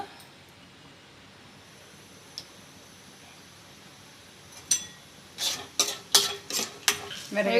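Peanuts fried in hot oil and stirred in a pan while making a mango pickle, heard as a quiet sizzle that turns into a quick series of sharp scraping, clinking stirs toward the end.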